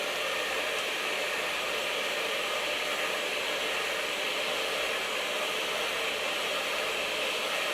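A hair dryer blows steadily on short hair being brushed for volume, a loud, constant, close whooshing airflow with no pauses and no voices.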